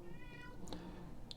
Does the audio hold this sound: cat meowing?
yes